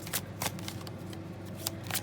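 A deck of tarot cards is shuffled by hand close up, giving crisp riffling bursts and soft sliding rustles in an irregular rhythm, with a few sharper snaps.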